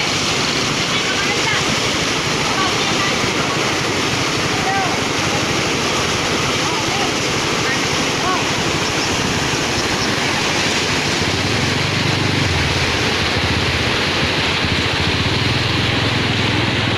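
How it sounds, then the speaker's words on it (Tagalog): Floodwater from Typhoon Ulysses rushing through San Luis, Pampanga: a loud, steady, roaring wash of water that fills the whole stretch without letting up, heard close by. "Grabe, lakas ng tubig."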